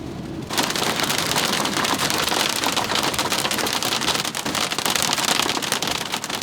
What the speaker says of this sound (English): we're in a hailstorm. It's just coming down.